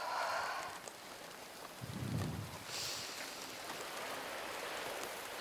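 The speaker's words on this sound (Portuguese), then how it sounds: "eu tô sentado aí, na chuva aí" Steady rain falling in the survival horror game The Quarry, a continuous even hiss of drops with a brief low rumble partway through and no talk.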